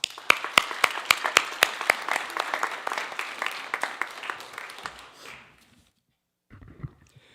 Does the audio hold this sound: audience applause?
yes